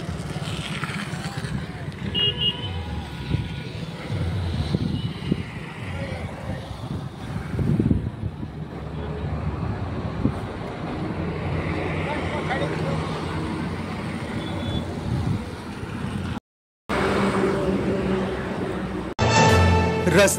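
Vehicles pass on a four-lane highway, cars, buses and trucks rumbling and swishing by at a moderate distance in continuous traffic noise, with someone talking over it and a brief dropout near the end.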